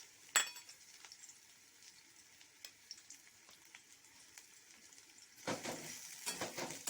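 Chopped onion frying in a pan for a roasted brinjal and egg mash, with a soft steady sizzle, a sharp clink near the start and a louder burst of crackling toward the end.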